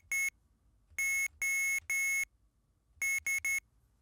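An Arduino ATtiny85 buzzer beeps the Morse code SOS, sharp electronic tones in groups of short and long bleeps with gaps between, close and clear over a quiet background.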